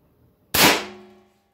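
A Benjamin Bulldog big-bore air rifle fires a single loud, sharp shot that rings out and decays over about half a second, with quiet before it.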